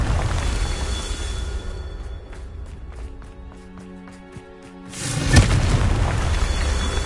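A Confringo blasting spell goes off in the Hogwarts Legacy video game, with a deep, loud boom in the last couple of seconds following a quieter stretch of game sounds and music.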